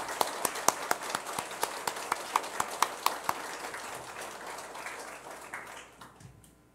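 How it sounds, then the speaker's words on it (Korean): A church congregation applauds the pastor in thanks. Scattered, distinct claps start fairly close and rhythmic, then thin out and fade into quiet by the end. "여러분 큰 뜨거운 박수로 감사의 박수를 주십니다"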